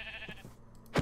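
A Minecraft sheep lets out a few short bleats, with a louder, sharper one at the end, close and clear with no talking.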